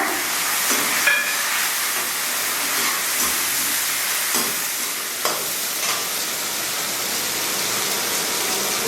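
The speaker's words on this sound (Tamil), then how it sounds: "தக்காளி போடுறோங்க" Tomatoes dropped into a hot pan of small onions for a broad bean curry, giving a steady loud frying sizzle and hiss throughout with a few brief stirring clatters, no voices.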